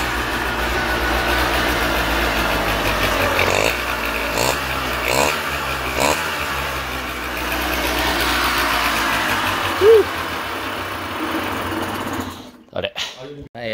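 A Honda Live Dio ZX scooter under restoration runs after starting, its small engine giving a steady, buzzing, sewing-machine-like rattle for most of the time before cutting out near the end, with voices heard over it.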